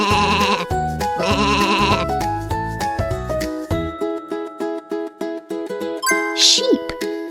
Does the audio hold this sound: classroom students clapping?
no